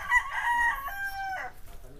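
A rooster crows nearby at a farm, one drawn-out cock-a-doodle-doo ending in a short cluck, with faint background noise.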